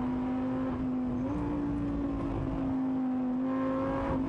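Lamborghini Super Trofeo four-wheel-drive race car engine heard on board at Silverstone, a loud steady high-revving drone with slight pitch shifts as revs rise and fall, with no talking.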